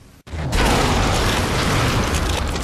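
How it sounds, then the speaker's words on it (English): Incineration cannon in the video game Halo 4 firing: a sudden loud boom after a brief cut, then a sustained roaring, crackling blast with a mechanical edge that holds steady for the rest of the moment. "This king has the incineration cannon!"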